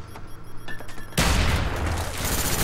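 Gunfire in a shooter video game: after a quieter opening with faint clicks and ticks, a dense, loud burst of rapid shots erupts and keeps rattling continuously to the end.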